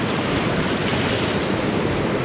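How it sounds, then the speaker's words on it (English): Ocean waves break on a shore on a calm morning, a loud, continuous rushing wash close by, with wind buffeting the microphone and no talking. "And we've got a wave coming through. Perfect, you can hear that."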